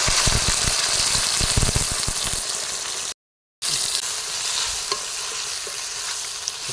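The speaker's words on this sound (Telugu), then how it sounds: "బాగా వేయించుకోవాలి" Dried red chilies frying in a pan while being stirred, a loud steady sizzle with scraping stir strokes, briefly cut to silence midway before the sizzle resumes, no talking.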